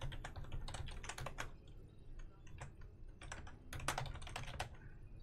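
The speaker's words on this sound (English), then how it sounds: "Let me try typing it in again." Quick bursts of clicky computer keyboard typing come in two clusters with a short pause between, fairly close and crisp over a low background hum.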